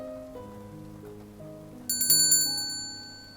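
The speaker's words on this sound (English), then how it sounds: "she heard the store bell jingle" Bright bell chimes ring a few times in quick succession from a shop door, after some soft melodic tones, then ring out and fade.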